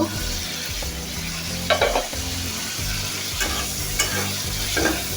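Poa fish frying in a spiced masala in a pan give a loud, steady sizzle throughout, broken by a few close scrapes and stirs of a spatula.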